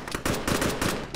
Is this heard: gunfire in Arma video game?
yes